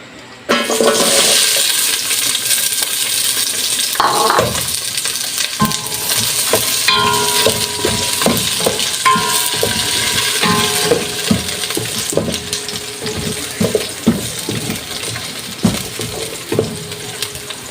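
Ingredients poured into a hot pan for squid adobo, setting off a loud, steady sizzle with clinks and stirring scrapes throughout, close and without talk.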